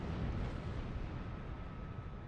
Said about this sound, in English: I'm surrounded by explosions.